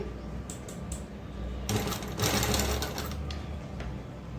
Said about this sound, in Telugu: మీ దగ్గర జిగ్జాగ్ మిషన్ ఉంటే జిగ్జాగ్ చేసేసుకోండి సరిపోతుంది